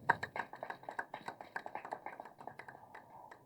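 Applause at a film award felicitation event, a dense, fairly faint patter of clapping hands that stays steady and then gradually thins out.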